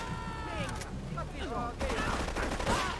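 Rapid bursts of gunfire from GTA III Definitive Edition gameplay, dense and continuous under a voice talking over the game sound.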